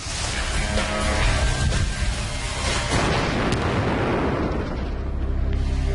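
A black powder explosion booms into a long, loud, roaring rumble that holds steady for several seconds without fading, with no voices.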